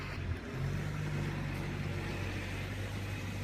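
A Bobcat skid-steer loader digs around the base of a dead tree, its diesel engine giving a steady, loud, close drone with a low hum that holds almost unchanged throughout, and no voices.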